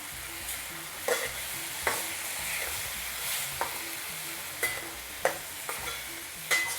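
Chicken balti sizzling in a pan as kasuri methi, garam masala and cumin powder go in, a constant frying hiss broken by repeated sharp scrapes and taps of a spoon stirring against the pan.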